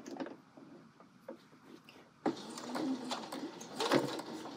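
A sewing machine stitches close to a fabric edge, starting with faint intermittent ticks and then switching to a louder, steady rapid whirring run about halfway through.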